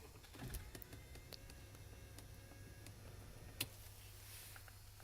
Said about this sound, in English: Power moonroof.